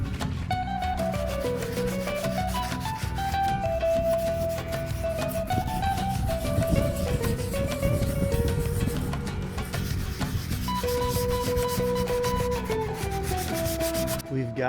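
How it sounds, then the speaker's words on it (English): Gelcoat being sanded on a Bigfoot camper, a steady continuous rubbing and grinding that runs close and loud throughout with no pauses, a faint tonal whine drifting above it. "We've gotten everything sanded down pretty good."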